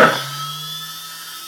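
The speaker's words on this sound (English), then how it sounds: "So we'll turn on the spindle." A CNC 3040 milling machine's spindle motor switches on with a sharp onset, then settles into a steady high whine and hum that holds evenly to the end, with no talking.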